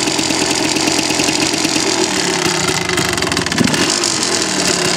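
A cold Yamaha Tri Z 250 two-stroke three-wheeler with original exhaust runs just after a kick start. It gives a loud, close, uneven idle with rapid popping, and there is no talk.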